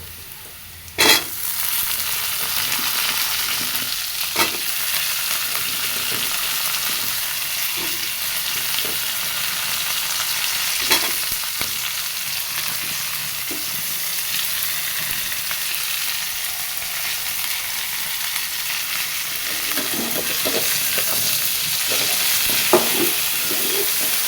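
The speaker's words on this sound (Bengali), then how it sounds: "আলু ভাজা ভাজা হয়ে গেছে, এখন দিয়ে দিব এতে সজনের ডাঁটা।" Potatoes and drumsticks frying in a pan with hot oil, a steady close sizzle running throughout, punctuated by occasional stirring clicks and scrapes, with no voices.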